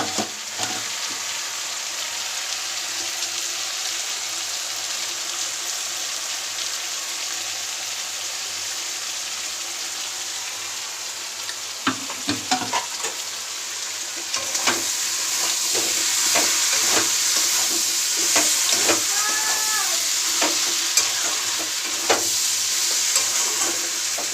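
Prawns stir-fried in a pan for a ridge gourd, potato and poppy seed curry sizzle loudly and continuously, the frying growing stronger partway through, with repeated scraping and stirring strokes of a spatula close by.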